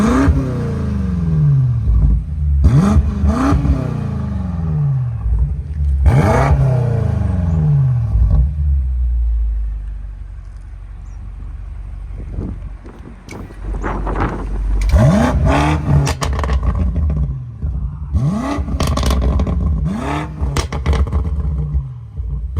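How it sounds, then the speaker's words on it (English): A 2022 BMW M5 Competition sedan with its Competition-specific louder exhaust revs in repeated sharp bursts that rise and fall. A lower idling rumble fills the gap between groups of revs, close and loud. "This exhaust is only specific for M5 competition. It's louder, and we're gonna show you some clip right now."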